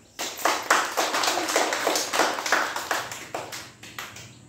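A group of children clap their hands together in a steady series of close, sharp claps, slightly uneven in rhythm, ending in a few scattered claps.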